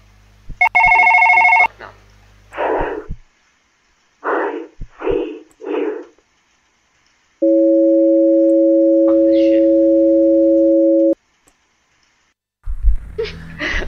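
A telephone rings in the horror video game Never Again, with a short burst of bright ringing, then a long steady electronic tone, with brief bursts of talk or noise in between.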